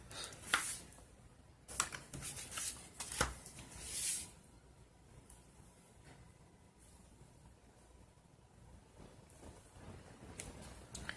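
Paper being cut for a handmade notecard craft, a few sharp snipping and rustling bursts early on, then quieter handling noises, close and fairly soft, with no talk.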